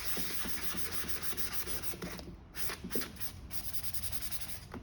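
Steady close-up sanding of painted furniture to distress the finish, a continuous rhythmic scratchy rubbing with repeated strokes and no talking.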